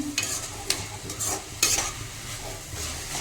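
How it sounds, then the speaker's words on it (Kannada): Grated radish palya frying in a pan, a soft continuous sizzle broken by several scraping stirs of a spoon, close and moderately quiet with no talking. "ಈಗ ನೀವು ಸ್ವಲ್ಪ ಮುಚ್ಚಳ ತೆಗೆದು ಚೆನ್ನಾಗಿ ಫ್ರೈ ಮಾಡ್ಕೊಂಬಿಡ್ರಿ."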